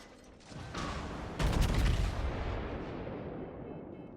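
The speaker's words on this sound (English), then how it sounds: "It looks like the Yamato wants to fire all of his guns this way." A Yamato battleship fires its main guns in World of Warships, a deep booming salvo that rolls out into a long rumbling decay, with a second heavier blast following shortly after the first.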